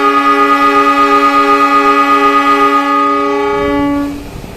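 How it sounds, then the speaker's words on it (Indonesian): A loud, sustained train horn blares steadily for about four seconds as a passenger train departs, then cuts off as low rumbling from the moving train takes over. "Kereta api siap diberangkatkan."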